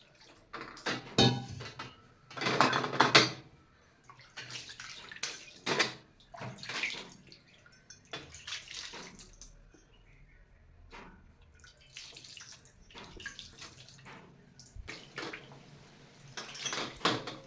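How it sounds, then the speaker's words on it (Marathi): Brass idols of deities being washed by hand in warm water to clear off oily panchamrit residue: intermittent close splashes and sloshing bursts with faint metallic clinks, no voices. "कोमट पाण्याने देव स्वच्छ करून घेणार आहे"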